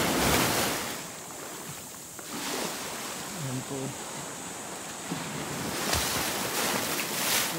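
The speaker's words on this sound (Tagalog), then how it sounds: "Nakayat po ako at malakas ang alon." Strong sea waves surging and crashing against rocky shore, a constant loud roar with wind buffeting the microphone, while someone speaks briefly over it.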